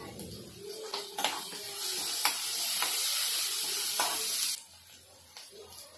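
Curry leaves drop into hot oil with a garlic-chili paste, setting off a loud crackling sizzle with a few stirring clatters that lasts several seconds and then settles into a quieter fry.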